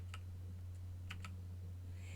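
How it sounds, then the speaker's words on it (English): A few quiet clicks from the delete key on a computer keyboard, pressed one after another over a steady low electrical hum. "the delete key on my keyboard"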